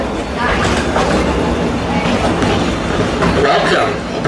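The Cowichan Valley Railway visitor train at the BC Forest Discovery Centre rolls along with loud, continuous rumbling and rhythmic clickety-clack wheel noise, and people talk over it.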